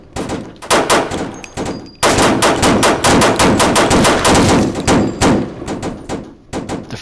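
Rapid gunfire from a Defender 45 in the Roblox game, loud bursts of repeated shots with short pauses between volleys, close and alone without talk.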